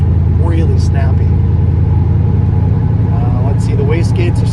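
A Porsche 996 with a swapped LS V8 running twin turbos, wastegates set near 7 psi, drives along with a steady loud engine drone and road rumble throughout, while someone talks over it.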